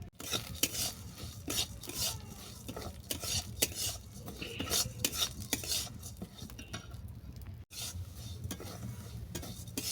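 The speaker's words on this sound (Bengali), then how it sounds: "এরপর কোঁড়াতে তেল দিয়ে মুগের ডালটা আমি দু তিন মিনিটের জন্য ভেজে নেবো" Moong dal being stirred as it fries in oil in a wok, with continuous sizzle and repeated scraping, clinking strokes of a spoon against the pan, close and steady throughout.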